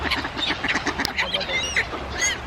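Ducks being fed at a park, several birds honking and quacking in quick overlapping calls close by, fairly loud, with outdoor background noise and no talking.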